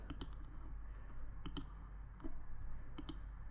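Sharp computer mouse clicks ring out at close range, several paired clicks spread over a few seconds against a quiet room hum, with no one talking.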